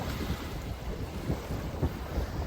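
Surf washing on a bay shore under steady gusting wind, a continuous broadband rush with soft swells of breaking water and no voices.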